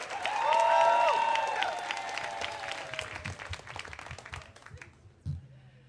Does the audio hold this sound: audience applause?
yes